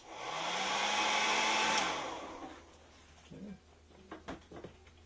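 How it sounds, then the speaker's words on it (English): A hair dryer whooshes steadily for about two seconds, drying paint on a walleye fishing lure, then switches off, leaving a few faint clicks and handling noises. "Then you're going to take a hairdryer just to quickly dry this."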